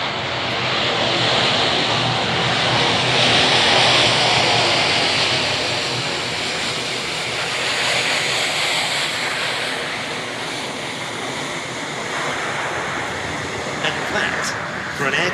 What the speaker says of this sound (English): For an aircraft of such size and weight was a very short landing roll indeed.